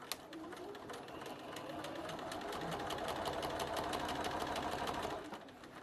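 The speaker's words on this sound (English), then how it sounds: "when you sew directly onto a leader and ender, directly onto a project using a leader and ender" A sewing machine stitches onto a leader and ender in a quick, even run of needle strokes that carry on for several seconds up close, then stop. No one speaks.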